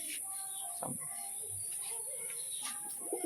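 A mated pair of tumbler pigeons gives soft, intermittent coos and chirps at close range over a steady background hiss, with a voice talking partly over them.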